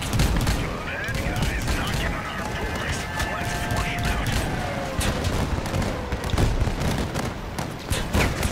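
Gunfire and cannon shots in a Crossout clan war, sounding as rapid clattering bursts and heavy booms layered over constant battle noise.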